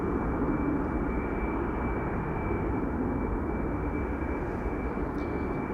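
A Singapore Boeing 747 cargo jet taxiing to the runway at Amsterdam Schiphol, a constant distant engine roar with a steady high whine, unbroken and even for several seconds.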